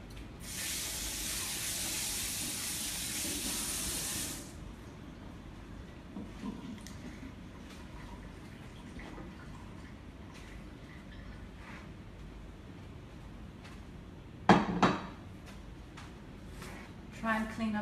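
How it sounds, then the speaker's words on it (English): Hands are rinsed under running water from a tap in a home kitchen during sauerkraut making, a steady hiss of flowing water for about four seconds, followed by quieter clatter. "I will now quickly rinse my hands."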